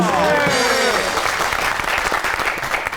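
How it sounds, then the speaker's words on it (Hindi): Studio audience on a comedy talk show claps loudly to welcome a guest, a thick, sustained burst of applause, close and even, with a host's voice briefly over the start. "आपकी बहुत सी तालियों में"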